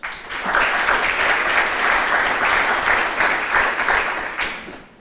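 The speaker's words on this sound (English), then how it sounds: "Would you give them a round of applause?" An audience at an education conference keynote applauds steadily for about five seconds, a dense wash of many hands clapping at fairly even loudness that swells in quickly and fades at the end, with no one speaking over it.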